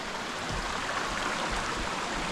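Creek water on the Alum Hollow Creek Trail in Huntsville, Alabama flows over slick rocks, a steady close rushing and babbling wash with no pauses and no voices.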